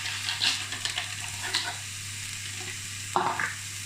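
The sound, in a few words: onions, carrots and peas added to frying mince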